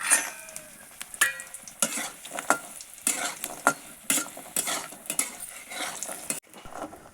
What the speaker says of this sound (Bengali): ওই একই তেলে আমি বড়িগুলো একটু ভেজে নিচ্ছি।